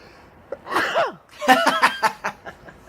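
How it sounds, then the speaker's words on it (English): A person sneezes outdoors in bright, direct sunlight at a Historic Scotland site. A single sharp burst is followed by several seconds of close, voiced chuckling or laughter. "first time I sneezed on camera. It's because the sun's directly in my eyes"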